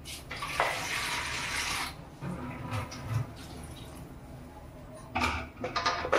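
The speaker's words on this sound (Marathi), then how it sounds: "थोडं पाणी टाकते त्याच्यात।" Water runs and splashes into a pan of vegetables for veg biryani for a couple of seconds, followed by quieter clinks and a second brief pour near the end.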